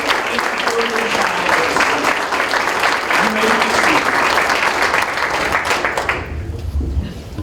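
Audience at an employee of the year luncheon giving a big round of applause for elementary school nominees, loud dense clapping sustained for about six seconds before fading into room noise.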